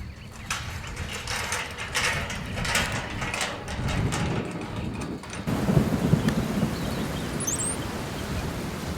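Gust front of a nearby thunderstorm hitting trees outdoors, a loud continuous roar of wind and rushing leaves with rain-like hiss, swelling into a heavier blast about halfway through; no voices.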